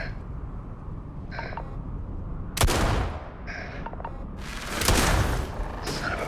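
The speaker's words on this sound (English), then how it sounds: "Grenade, get down." Gunfire and a grenade blast in the sci-fi video game Starfield: scattered shots, then two sharp broadband bursts with a heavier explosive swell near the end, mid-distance and fairly quiet overall.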